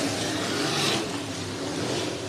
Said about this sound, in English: Heat race number 1 for your IMCA modifieds underway.